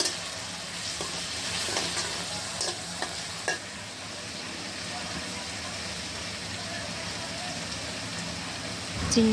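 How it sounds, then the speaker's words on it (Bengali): Prawns sautéed and stirred in a pan for a home-cooked lunch, a steady sizzle with scraping stir strokes, close and continuous, with a few sharper clicks of the utensil against the pan. "চিংড়ি মাছটাকে আমি ভালো করে কষিয়ে নিয়েছি"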